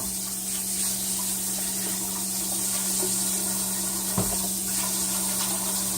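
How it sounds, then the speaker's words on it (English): Running tap water pours steadily into a kitchen sink for hand washing, a continuous hiss and splash with a low hum underneath and a brief knock near the end, with no talking. "Let me wash my hands real quick."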